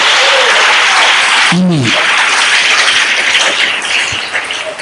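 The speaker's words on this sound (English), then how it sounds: "I don't want this type of clapping." Church congregation clapping during worship, a dense sustained patter of many hands, fairly close and loud throughout, with a brief voice calling out over it.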